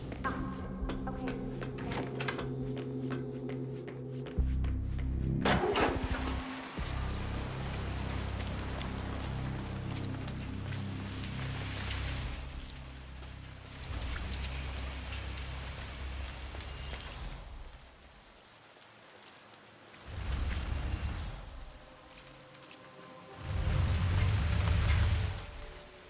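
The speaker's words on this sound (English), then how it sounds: "Rain, rain, nothing but rain." Steady rain pours down in Hitman 3, a dense hiss of drops on surfaces that fills the scene, swelling and thinning in waves with a few muffled low rumbles and background game sounds.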